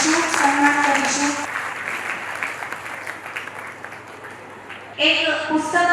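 Applause from the audience at a Gujarati book launch ceremony rises behind a loud voice on the microphone and a swell of music, then thins before the music returns strongly near the end.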